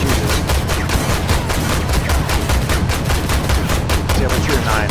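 Rapid, continuous twin autocannon fire from a T-72-chassis Terminator 2 tank in Armored Warfare, a loud, steady stream of evenly spaced shots with no pauses.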